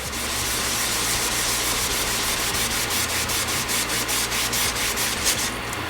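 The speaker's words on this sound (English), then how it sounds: "I'm just gonna wipe down the area." Soft pad soaked in rubbing alcohol wiping down a white car seat, a steady close scrubbing rub with repeated strokes that quicken toward the end, no talk.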